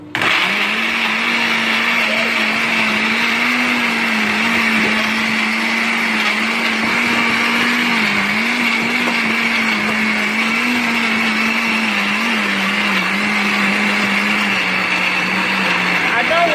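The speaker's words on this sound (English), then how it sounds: "blend it into juice" A blender blending carrots with water into juice runs continuously at a steady high-pitched whir, its motor tone wavering slightly as it churns, with no pauses throughout.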